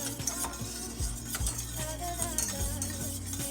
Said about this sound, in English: So get in here and stir it again.